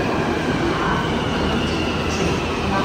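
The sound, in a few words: Hyderabad metro train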